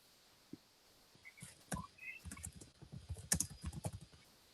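Typing Java code on a computer keyboard in the NetBeans IDE, a quick quiet run of close key clicks building into a steady patter, with no one speaking.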